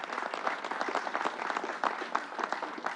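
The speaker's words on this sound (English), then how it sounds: "Let's give Northwell a round of applause," Audience applause at a Long Island vaccination site event: dense, steady clapping from a crowd that fills the whole stretch, close and lively with no break.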